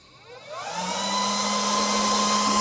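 The vacuum suction on a DTF printer with a white ink circulation system spins up, rising from a quiet start into a loud, steady whirring motor drone with a constant whine.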